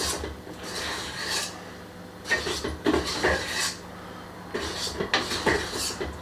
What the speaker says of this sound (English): I'm going to grab the whisk and just use the whisk to actually fold it through by hand at the end.